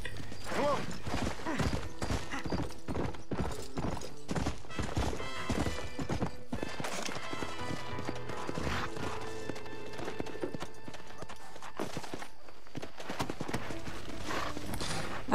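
Horse hooves clip-clop steadily in the Red Dead Redemption video game, layered under busy game music and effects for the full length.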